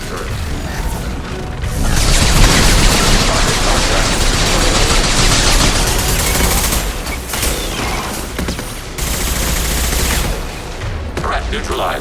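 Loud, dense turret gunfire in Mass Effect 2, sustained rapid bursts with crashing impacts that cut off and resume, close and harsh, with voices in the mix.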